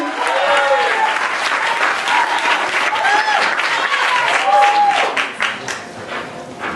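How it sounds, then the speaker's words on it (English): An audience at a poetry reading applauds a poet walking onto the stage, with loud, dense, sustained clapping and a few whoops, fading slightly near the end. "Clap for Theo, ladies and gentlemen."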